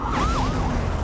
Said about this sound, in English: Sirens wailing.